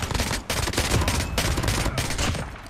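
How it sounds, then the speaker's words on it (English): Rapid gunfire in the battle royale mode of COD Mobile, dense bursts of automatic shots in several loud volleys with brief gaps between them, and no talk over it. "There's a dude that is taking shots."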